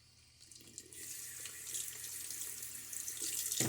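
Tap water runs steadily into a sink for a shave rinse, starting quietly and swelling into a continuous close hiss of flowing water that grows louder toward the end, with no talking.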